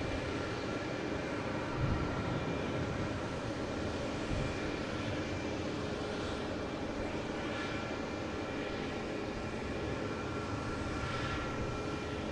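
A Delta Airbus A321neo jet at Boston Logan airport makes a steady, broad engine roar that holds evenly throughout, moderately distant with no talk over it.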